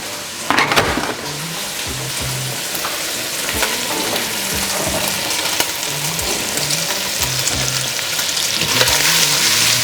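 Onions frying alongside bacon on a Blackstone 22-inch E-Series griddle, a loud continuous hiss and crackle with repeated scraping of a spatula across the cooktop, no voices.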